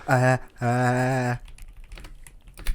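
A person flicks their tongue to make rapid, dry clicks that mimic keyboard typing; a voiced vocal sound comes first, then a scattered run of soft clicks.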